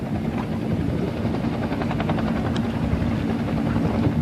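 A helicopter flies nearby with a loud, steady rotor drone that fills the whole stretch without letup. No voices are heard over it.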